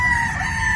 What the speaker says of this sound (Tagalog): gwapong-gwapo pong ating brood stag, oh, para sa ating tryo